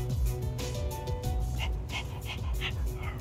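A dog in the Persona 3 Reload video game pants and whimpers with short yips over steady game music, the animal sounds close and repeated through the short stretch.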